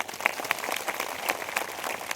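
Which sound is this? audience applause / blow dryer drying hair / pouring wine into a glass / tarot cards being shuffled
audience applause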